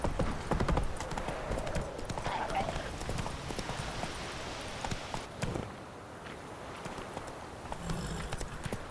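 Hooves clop steadily on the ground as Roach the horse is ridden in The Witcher 3, a brisk walking rhythm over ambient noise with faint background sounds.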